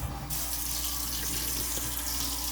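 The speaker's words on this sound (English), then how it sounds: "So let me wash this long pan out because this is what I'm gonna cook in." Steady stream of tap water running into a sink as a long cooking pan is rinsed out for beef stew, loud and close with a constant rushing splash and no voices.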